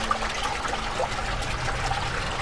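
Fresh spring water trickles and dribbles steadily at Petra, a soft continuous flow with light splashing heard close by, without talking.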